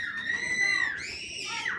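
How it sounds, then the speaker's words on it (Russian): Children shout and squeal while playing outdoors on a May Day evening, high excited cries rising and falling at moderate distance with no other voices close by. "Видите, вон дети кричат, радуются."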